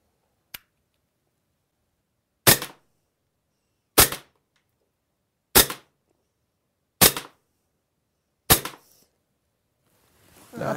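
Six sharp shots from a SIG Sauer P226 X-FIVE airsoft pistol fired downrange, sounding as crisp, loud snaps at a steady pace of roughly one every one and a half seconds, with quiet pauses between them.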